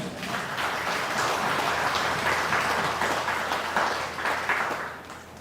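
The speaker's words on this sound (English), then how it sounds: "I ask us to applaud him" An audience applauds at a memorial tribute ceremony, a continuous crackling wash of many hands clapping at moderate volume that holds steady and then begins to taper off near the end.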